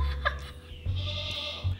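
A goat gives a short, wavering bleat nearby, followed by a higher, thinner call against a low background hum.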